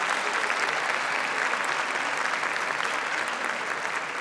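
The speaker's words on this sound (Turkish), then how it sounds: "Onlara da bir alkış rica edeceğim özellikle" A hall audience at a Caucasian association culture night in Kayseri applauds for the team, a dense, even burst of many hands clapping at moderate distance with no break.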